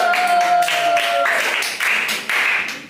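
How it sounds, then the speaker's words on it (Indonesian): Audience applause at a classroom learning session, steady clapping from a group filling the whole stretch, with a faint tone and brief pauses in the clapping. "Oke, tepuk tangan buat kita semua"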